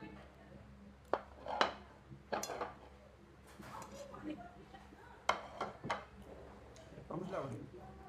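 Spoons clink against dishes during a meal on a Sikkim road trip, scattered light taps and scrapes mixed with people talking nearby.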